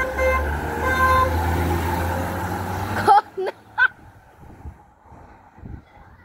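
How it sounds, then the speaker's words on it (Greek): Car horn honking at passengers from a nearby vehicle: loud steady engine and road noise cuts off, then two or three short, sharp horn toots sound close by, followed by quieter background murmur. "Μας κόρναρε."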